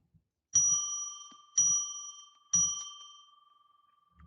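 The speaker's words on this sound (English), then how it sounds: "why don't we just ring our bell 3 times to declare sacred space" A small bell rings three times at an even pace, each bright ding sharp at the strike and then fading, with the last ring lingering longest in a quiet room.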